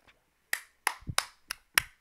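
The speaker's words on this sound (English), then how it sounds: "I'm clapping. I don't know if y'all can hear that, but I am clapping" Hands clapping about five times in a quick, slightly uneven rhythm, close and fairly crisp, with a short low thump partway through and no talking.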